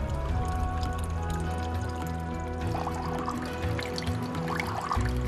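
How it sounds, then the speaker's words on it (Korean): Carbonated mineral spring water bubbles and trickles close by at a spring in the Pamir mountains of Tajikistan, a steady fizzing gurgle with faint dripping and no talk. "보글보글 거품이 올라오는 것은 탄산수입니다."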